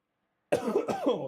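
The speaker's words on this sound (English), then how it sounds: "So I apologize for the coughing." A person with a cold gives a short burst of harsh, chesty coughs, two or three close hacks in quick succession after a moment of silence.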